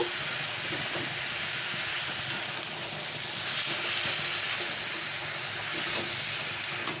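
Ginger paste and green chillies cooking in a pan, a steady broad hiss of sizzling oil that stays even and close for the whole stretch, with no voices.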